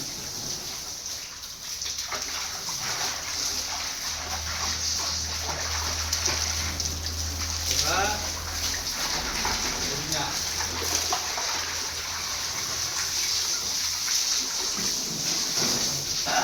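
Water splashes and sloshes as children bathe while a car is washed outdoors on a hot summer day, a continuous wet spattering with steady hiss underneath, joined by voices and shouts throughout.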